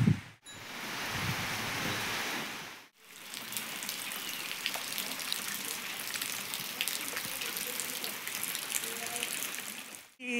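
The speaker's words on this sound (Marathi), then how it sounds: "लालीला मी घेऊन जाणारच होतो, पण पाऊस आला आहे" Steady rain pours down outdoors in a continuous, dense hiss with a few brief breaks, fairly loud and even throughout, with only faint traces of other sound beneath it.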